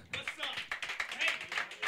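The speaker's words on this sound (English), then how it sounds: "Clap it up for Papercut" A crowd at a freestyle rap battle event clapping in steady, rapid rhythm, the applause filling the space with voices mixed in beneath.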